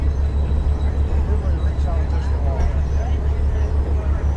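Interior of a Budd RDC railcar rolling along the rails on a fall excursion, a steady low rumble and drone with faint clatter throughout, close and continuous, with indistinct murmur of passengers in the background.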